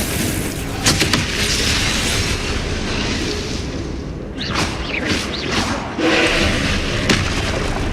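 Loud, dense magical blasts and whooshes from Confringo spell explosions in Hogwarts Legacy, with a continuous roar of combat effects, a brief lull and then renewed booming bursts.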